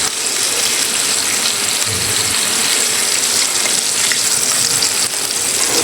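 Chicken pieces coated in flour deep-fry in hot oil for a crispy Indonesian-style fried chicken, giving a steady, loud, dense sizzle and bubbling hiss that runs unbroken throughout, with no talking.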